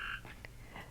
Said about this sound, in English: There is a frog that is making so much noise.